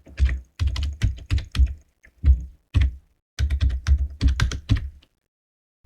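Close, crisp keystrokes clatter on a computer keyboard in quick bursts of typing, with short silent gaps between the runs.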